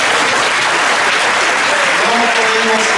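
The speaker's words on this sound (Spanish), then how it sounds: "Denle un aplauso al Señor" Church congregation giving a loud applause to the Lord during a Spanish-language sermon, dense continuous clapping from a crowd, with a voice rising over the clapping near the end.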